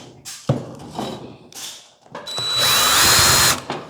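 A few clicks and thumps, then a power drill driving a screw into a metal panel whirs in a rising, strained burst for about a second before stopping with a clunk.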